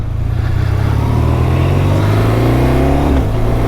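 A 2024 BMW R 12 nineT motorcycle engine runs loud and close, a deep steady rumble with slight rises in revs and no talk over it.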